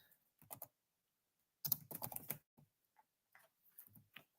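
Someone types on a computer keyboard in short, quiet bursts of key clicks separated by silent pauses. The clicks come faint and close, with no voices.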